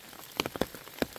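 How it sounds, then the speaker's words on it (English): Rain falls on a wooded hiking trail along the Current River section of the Ozark Trail, a soft steady patter with scattered louder drops close by, quiet and with no voices. "It wasn't raining quite so hard on me."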